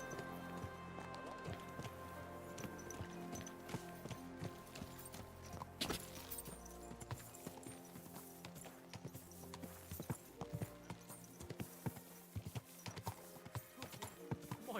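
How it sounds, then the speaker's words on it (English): Rhythmic clip-clop of horse hooves against a busy layered soundscape in the video game Kingdom Come: Deliverance 2, with occasional neighing and scattered background noises throughout. "My, what a beautiful horse."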